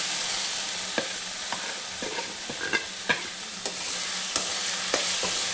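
Spices stirred into a frying pan of black chickpea ghugni, a steady sizzle with repeated scraping taps of the spoon at a close, even pace.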